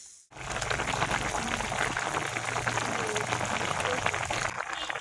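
Water pours into a cooking pan holding a spicy fish curry with onions, making a continuous close rushing and bubbling that starts abruptly and carries on for several seconds before easing off.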